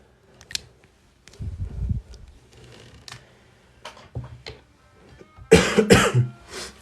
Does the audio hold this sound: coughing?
yes